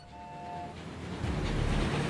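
A train sound effect from a livestream alert: a loud passing train with a brief whistle-like horn tone at the start, then a heavy rumbling, clattering roar that swells toward the end.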